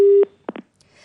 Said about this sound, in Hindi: प्रजापति जी ने भी यहां पर फिलहाल फोन काट दिया है स्वागत सुनकर ही